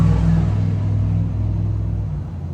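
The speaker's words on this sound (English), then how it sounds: "I let that car go by." A car passing by on the road, a loud close low rumble that slowly fades as it moves away.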